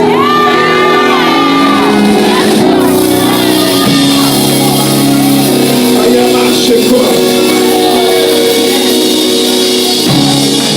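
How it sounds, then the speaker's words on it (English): A church congregation at a pastor's service screaming and shouting together, a loud, dense roar of whoops and yells sustained throughout, close and overwhelming. "I need you one more time to open your mouth and scream"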